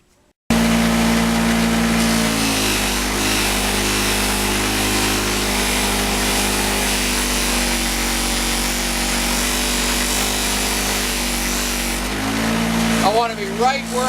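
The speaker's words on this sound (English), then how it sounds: "I want to be right where I'm just slowing the speed of the wheel down, but I'm not stalling it." A polishing wheel buffs an aluminum handlebar riser, giving a loud, steady whir that holds evenly for about twelve seconds before tapering off with a brief scrape as the work is eased away.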